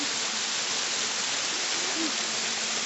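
Sapaongot Falls in Bani, Pangasinan pours as a steady, dense rushing roar that fills the whole scene evenly, close and loud throughout.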